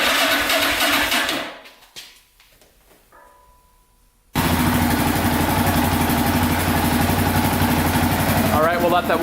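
A Yamaha Raptor 660R ATV engine runs loudly, fades to near silence, then abruptly fires up again after a few seconds and settles into a steady, rough, close-up idle while warming up.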